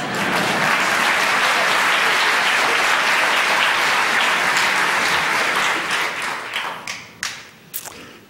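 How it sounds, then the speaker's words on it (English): An evening event audience applauds a newly named Asia Society center director, a dense, steady burst of clapping that holds loud for several seconds, then thins into scattered claps and fades out. "You can clap."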